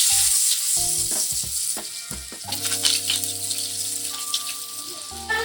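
Long strips of potato and raw plantain fry in oil with a few black cumin seeds, a loud crackling sizzle with bursts of spattering, while steady tones run underneath.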